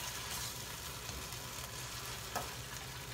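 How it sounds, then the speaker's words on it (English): Tomatoes sizzling in a pan for pork and beef giniling while being stirred, a steady soft frying hiss with a faint scrape of the spoon partway through. "So keep on stirring until the tomato gets soft"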